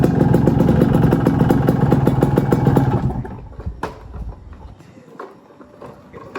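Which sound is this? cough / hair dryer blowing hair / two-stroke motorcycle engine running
two-stroke motorcycle engine running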